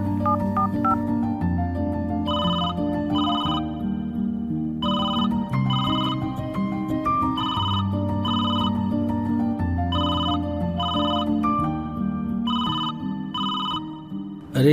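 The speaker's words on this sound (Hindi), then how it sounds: "कौन सुबह सुबह मुझे फोन कर रहा है यार" A telephone rings loudly and steadily in a Hindi-language fishing crime drama, with repeated paired ring bursts in an even rhythm throughout over a constant background tone.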